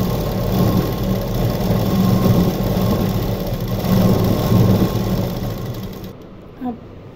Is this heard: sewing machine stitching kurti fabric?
yes